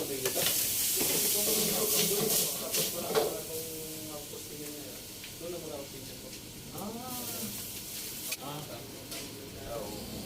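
Chicken with ginger, garlic, chili and bay leaf sautés in a pan, giving a steady loud sizzle with scraping stir strokes throughout while someone talks over it.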